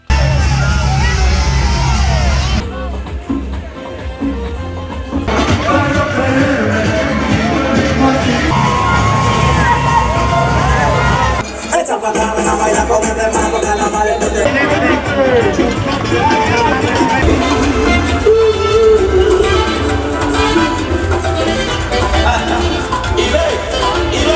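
Shouting crowd at the Bronx Dominican parade, with political supporters yelling and whooping amid loud, continuous babble and cheering that stays dense throughout.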